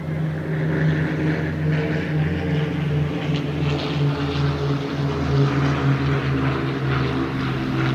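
A propeller aircraft flies at the Eastbourne airshow, its steady droning engine roar holding at a constant, fairly loud level throughout, with no voices.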